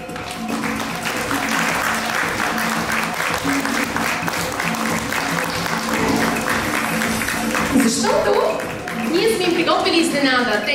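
Sustained crowd clapping at a school celebration of letters for a first-grade class; the applause holds steady, then thins near the end as voices and talking rise over it.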